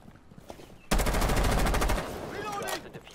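Sustained burst of automatic gunfire in Rainbow Six Siege, loud and close, rattling steadily for about a second before easing into quieter shots and game sounds.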